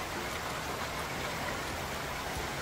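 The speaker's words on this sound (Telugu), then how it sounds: "కొంచెం స్టార్ట్ చేసామో లేదో వర్షం స్టార్ట్ అయిపోయింది" Rain falling steadily on a clean village in Meghalaya, a soft even hiss of drops on surfaces, continuous and fairly faint with no voices.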